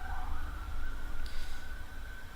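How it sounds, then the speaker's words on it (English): An ambulance siren wails as it passes through a village, heard faint and distant outdoors as a steady rising and falling tone over low background rumble. "It sounds potentially ambulance, but it's going through the village."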